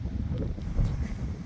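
Wind blowing steadily outdoors during a garden walk on a really windy day, a broad low rumble and buffeting on the microphone with faint rustle, continuous and fairly loud throughout with no voices.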